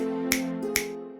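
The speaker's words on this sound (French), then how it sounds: "D'un claquement de doigts" A genie's finger snaps in a cartoon, two crisp, sharp clicks about half a second apart over a sustained tonal musical backdrop.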